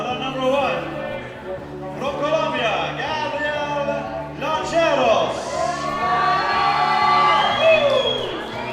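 A Colombian crowd cheering and whooping at a bouldering competition as Colombian climbers step onto the wall, swelling louder toward the end, with a commentator talking over it.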